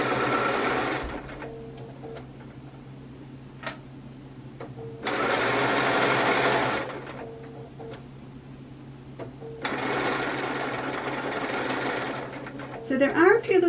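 A sewing machine stitches in three separate runs, each a loud, steady whirring buzz lasting a couple of seconds, with quiet gaps and small clicks between them and a brief clatter at the end.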